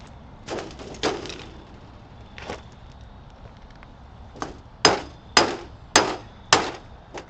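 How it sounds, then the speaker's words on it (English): A hammer strikes a cooled block of smelted slag from a galena-to-lead smelt, sharp knocks coming first as a scattered few and then as four loud, evenly spaced blows close by, with no talk. "I'm about to take a hammer and knock this top off"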